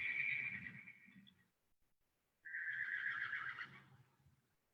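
Two horses whinny in turn, the calls fairly faint and distant, separated by a brief pause.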